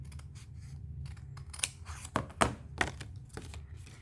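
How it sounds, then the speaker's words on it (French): Scissors snip through fabric for a mask case in a quick series of close, crisp cuts, several sharp blade closes in an irregular rhythm over a faint background. "je vais venir couper jusqu'au premier trait, jusqu'au 10 cm"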